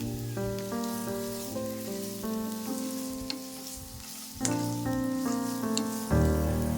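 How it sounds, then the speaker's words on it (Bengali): Chopped carrots and beans sizzle in white oil in a pan for street-style chowmein, a continuous crackling fry beneath steady tonal music, swelling louder as more goes in. "এবার কেটে রাখা গাজর আর বিনস দিয়ে দেব।"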